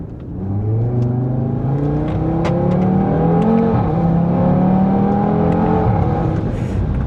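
A 500-horsepower car accelerating hard while overtaking on an open road, engine note climbing steadily in pitch through the gears, loud and close from inside the cabin, with no talk.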